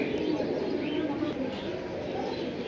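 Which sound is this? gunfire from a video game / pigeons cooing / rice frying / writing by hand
pigeons cooing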